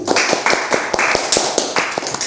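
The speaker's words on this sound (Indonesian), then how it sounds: "tepuk tangan untuk Rifki" A small group at a university talk claps briefly in a quick, uneven patter, close by and fairly loud, with a little talk mixed in.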